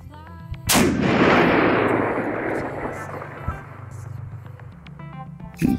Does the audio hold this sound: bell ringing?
no